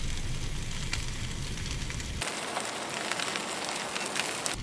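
Steak sizzling on a camping grill, a steady bright crackling hiss that continues throughout, with a rumbling low layer dropping away partway.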